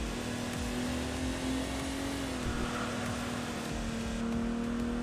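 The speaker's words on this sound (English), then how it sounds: "Like that is a top tier engine sound. Just hearing the throaty rumble." A car engine revs in the racing video game Enthusia Professional Racing, giving a steady, throaty, sustained drone that stays even and up close for several seconds with no commentary over it.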